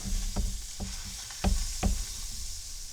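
Butter sizzles steadily in a hot pan as eggs fry for Texas-style eggs Benedict, with a few sharp clinks and scrapes of a utensil on the pan, close and fairly quiet with no voices.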